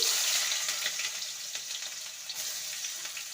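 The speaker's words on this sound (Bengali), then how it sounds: "কড়াইতে সামান্য সর্ষের তেল দিয়েছি এবারে দিয়ে দেবো পেঁয়াজ কুচি" Chopped onion sizzles steadily in mustard oil in a kadai, a continuous close frying hiss with faint stirring scrapes and no talk.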